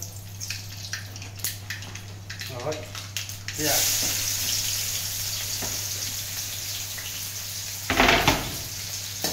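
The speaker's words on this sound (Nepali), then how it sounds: "प्याज भुन्ने हल्का हल्का" Chopped onions sizzle lightly in oil in a pan for a poached rice-flake snack, a steady close frying hiss with scattered stirring clicks and a louder burst of sizzle near the end.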